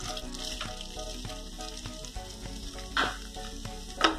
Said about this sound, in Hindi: हम लोग प्याज को फ्राई कर लेंगे।